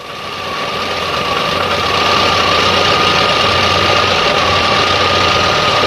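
Car engine fitted with a 2E/3E carburetor idling during idle speed and CO adjustment at normal operating temperature, heard as a loud, steady, close drone with a constant hum that swells slightly at the start.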